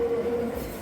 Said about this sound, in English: a short distance away, we encountered this black train.